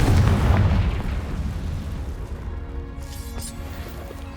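In Hogwarts Legacy, a Confringo fire spell bursts with a heavy, loud boom at once, then a long rumbling tail that thins out, with faint ringing game tones near the end.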